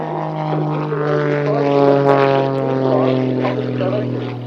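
Propeller aircraft engines at the Cosford Airshow give a steady, loud droning hum with strong low harmonics, holding continuously and swelling slightly mid-way.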